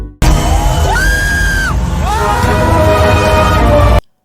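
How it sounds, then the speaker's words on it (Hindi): A packed movie theater crowd yells and whoops wildly as a film's title appears. Loud continuous roaring with rising screams and whistles fills the whole stretch. "लोग पागलों की तरह चिल्लाने लगते हैं।"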